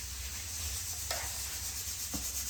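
Stiff flour dough for dal bati, mixed with hot water and kept firm like bhakri dough, is kneaded by hand with a soft, steady rubbing and a couple of brief pressing thumps over a low background hum.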